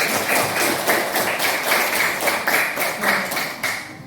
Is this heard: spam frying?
no